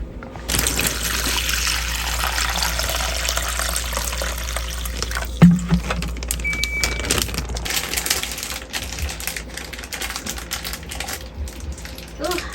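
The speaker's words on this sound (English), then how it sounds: "Ooh, vinegar's pouring out." Vinegar pouring out inside a composting toilet, a close trickling and dribbling of liquid with a sharp knock partway through. The flow thins and turns more sporadic toward the end.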